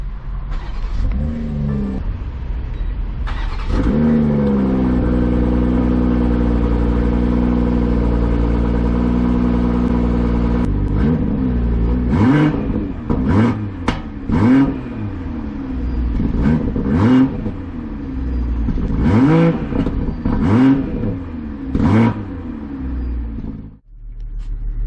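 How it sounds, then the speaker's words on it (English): A 2021 BMW M440i xDrive engine cold-starts, cranking to life and settling into a steady idle, followed by a series of sharp revs rising and falling close by. "let's see what a cold start of the M440i sounds like"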